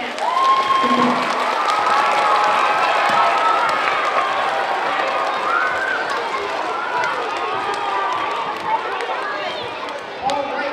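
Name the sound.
schoolchildren clapping and cheering loudly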